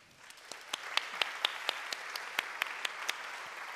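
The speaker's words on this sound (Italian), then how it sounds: "Tagliamo gli applausi così guadagniamo tempo" Audience applause at a televised interview session, a steady wash of many hands with a few sharper individual claps standing out, moderately loud and without talk.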